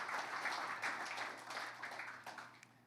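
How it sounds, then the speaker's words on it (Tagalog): Congregation at a church worship service clapping together in praise, a steady wash of many hands that swells and fades slightly, heard at a distance and fairly quiet. "Can we give the Lord a clap offering of praise?"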